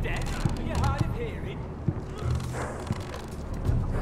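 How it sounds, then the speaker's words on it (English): Horse hooves clip-clop in a Game of Thrones video game, a few soft thuds spaced through the clip under steady game ambience and someone talking over it. "Oh, a horse."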